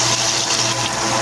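Water is poured into a pan of shrimp sarciado with tomatoes, pepper and salt, a steady, close rushing splash lasting the whole short moment without speech.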